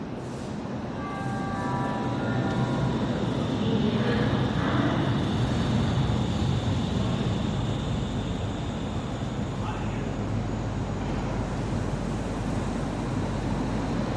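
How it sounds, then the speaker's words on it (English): Metro trains depart from and arrive at an underground station at Steintor in Hannover, Germany, with a rising electric motor whine early on and a sustained rumble of rolling cars that swells and then holds steady. "metro leaving, a metro coming"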